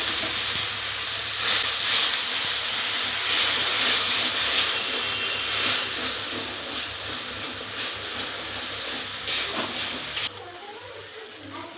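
Water hits a hot pan of yogurt chutney being cooked with turmeric, giving a loud sustained hiss and sizzle of steam that slowly fades, then stops abruptly near the end with a few faint clatters.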